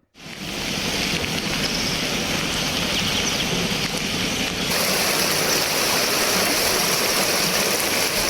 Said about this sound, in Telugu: ఉరుములు మెరుపులతో కూడిన వర్షం కురిసింది కాలువలు పొంగి పొర్లడంతో రోడ్లు జలమయమయ్యాయి